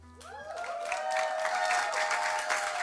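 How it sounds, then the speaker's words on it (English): An audience breaks into applause, steady clapping swelling and holding at a moderate level after a brief tone at the start. "Thank you for the applause"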